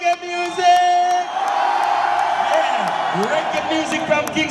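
A concert crowd screams and cheers at a live reggae show in Mauritius. A sustained, loud roar of many voices follows a brief shouted vocal note near the start.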